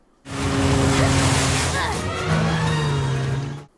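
A cartoon car drifts and skids in an animated puppy rescue show, a loud, close tire squeal with engine revving that runs for about three seconds, then cuts off abruptly.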